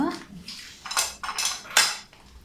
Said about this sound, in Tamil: நான் சும்மா ஒரு மக்கொண்டு எடுத்துருக்கிறேன்.